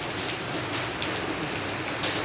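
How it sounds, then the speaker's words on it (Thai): Heavy rain pours down steadily, a dense, loud hiss of drops striking surfaces with no letup. "ฝนตกหนัก ฝนก็น่าจะอยู่บ้าน"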